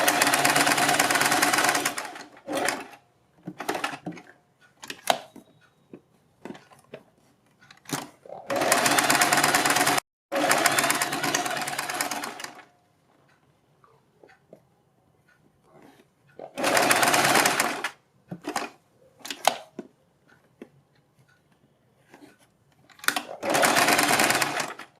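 A sewing machine stitches fabric for a neck design in several loud close bursts, each running a few seconds, separated by quiet gaps with faint handling sounds.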